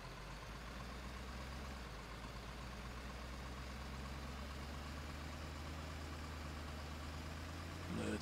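A green truck idles in a truck driving video game, its engine a steady, low, continuous rumble that stays even and close throughout with no speech over it, with a slight bump in level right at the end.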